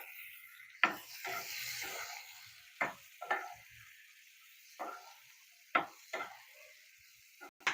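Green chillies frying in a pan, a quiet sizzle broken by several scraping stirs of a spatula at irregular intervals, close up with no talking.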